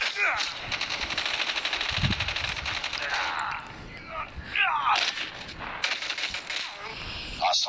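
Gunfire rattles in a Call of Duty multiplayer match as rapid automatic bursts, dense at first and then broken into shorter volleys, with muffled voice-like sounds mixed in between the shots.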